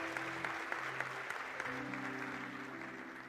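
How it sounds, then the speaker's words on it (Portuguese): A church congregation applauds in praise during a sermon, a continuous spread of clapping at moderate distance over sustained organ-like keyboard tones. "Você pode dar um aplauso ao Senhor?"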